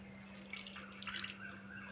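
Potato and tomato paste juice being strained for a homemade face pack, heard as soft liquid dripping and trickling close by, with a steady low hum underneath.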